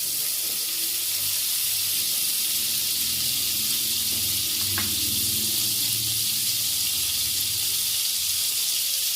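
Square layered paratha sizzling on a buttered tawa over lowered heat, a steady broad hiss running throughout with soft low rumbling and a faint click midway.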